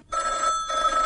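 A telephone rings with a bright electronic trill in two bursts separated by a short gap, near and loud with no talk.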